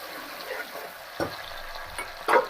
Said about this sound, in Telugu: కొంచెం ఆనియన్స్ అనేది గోల్డెన్ బ్రౌన్ కలర్లోకి వచ్చేంత వరకు ఫ్రై చేసుకోవాలి.